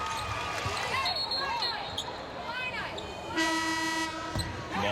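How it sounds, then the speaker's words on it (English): Referee's whistle shrilling at a girls' Class AAAA state championship basketball game, sounding as a steady tone over loud crowd noise, sneaker squeaks and commentary late in the moment. "Ball is kicked. That's why the whistle sounded."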